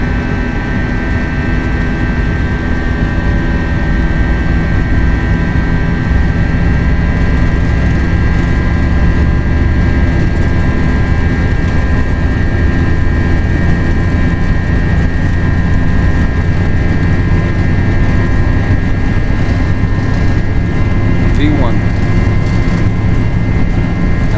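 Airbus A320 engines in the FSLabs flight simulator spool up to takeoff thrust during the takeoff roll, a loud, steady jet roar with a sustained whine held evenly for over twenty seconds, no talking.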